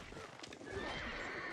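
Horses neighing in a game set during a skirmish, a faint whinny rising over a busy, distant background with light clip-clop and a voice speaking under it.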